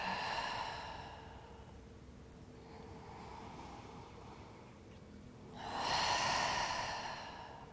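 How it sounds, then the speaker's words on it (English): Rapid, deep breaths drawn through an open mouth during a yoga exercise for releasing fear, heard alone as a steady run of airy rushes that swells louder near the end. "And breathe a little faster."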